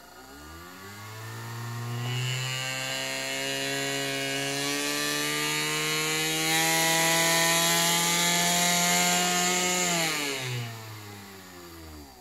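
A high-torque electric motor whines steadily, winding up to a sustained strained drone with a rising pitch, holding for several seconds, then spinning down, loud and close with a gritty rubbing edge and no talking.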